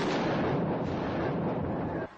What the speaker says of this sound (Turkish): Az önce çekiciden indirilen aracın patladığı anı böyle görüntülüyor.